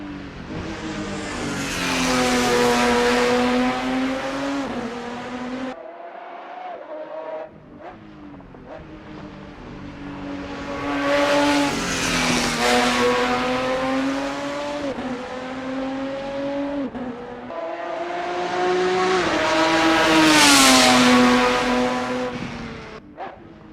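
Race cars in an Assetto Corsa replay rev and roar past in three long sweeps, engines rising and falling in pitch as they approach and fade, loud and continuous with no talk.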